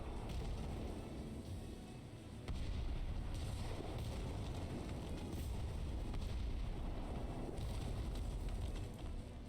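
Airship cannons firing in the video game Airships: Kingdoms Adrift, heard as a rumbling barrage of booms over a dense, continuous roar that swells and holds steady.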